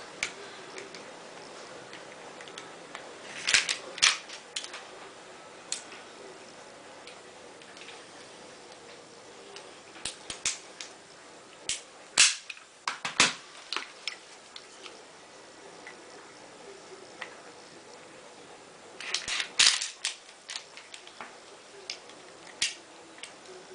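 An ASG Dan Wesson Valor 1911 CO2 airsoft pistol being reassembled: scattered sharp metallic clicks and snaps, close and fairly faint, in irregular clusters with quiet pauses between.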